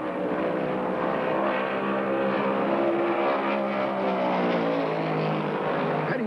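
Stock cars at the 1971 Daytona 500, among them Richard Petty's Plymouth number 43, roar continuously with layered engine drones whose pitch shifts as cars pass, a steady loud racing din with no talk.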